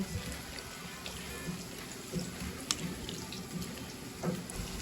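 Tap water runs steadily into a sink while something is rinsed, a constant close splashing wash with faint drips and clinks and no speech.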